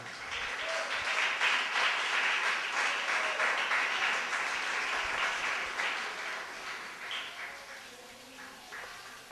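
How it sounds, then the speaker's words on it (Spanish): A church congregation breaks into sustained applause, a dense wash of many hands clapping that gradually thins and fades toward the end. "La ofrenda de palmas, iglesia."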